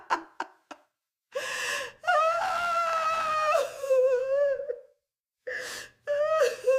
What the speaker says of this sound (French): j'ai demandé le gros plan d'une femme, elle explose de rire, puis hurle, puis a l'air extrêmement surprise, puis se met à pleurer